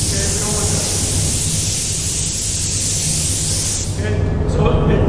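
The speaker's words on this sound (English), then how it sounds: "With wet paint, the air pressure will blow the paint around." Steady broadband hiss of air blowing over a wet painted panel to dry it, loud and continuous for about four seconds before briefly dipping and resuming.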